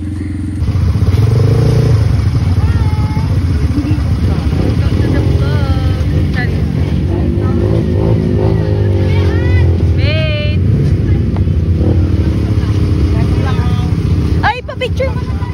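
An ATV engine runs loud and close at a steady idle with a rough mechanical rumble, heard outdoors, while people talk over it throughout.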